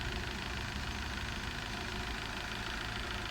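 A Volkswagen Vento's AGG 2.0 petrol engine with 260,000 km on it runs steadily on LPG, its gas injectors adding a fine, fast ticking knock over the even hum of the idle, close up and continuous with no talk.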